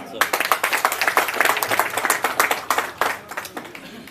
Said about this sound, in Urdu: تو اب میں آپ کی بھرپور تالیوں میں دعوت خطاب دوں گا عمران خان دلزاق۔